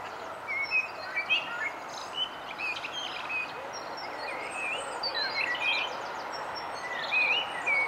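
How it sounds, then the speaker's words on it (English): A song thrush sings in a foggy garden among other birds: short, scattered chirping phrases at moderate distance over a steady outdoor hiss, with no talk. "There's a song thrush"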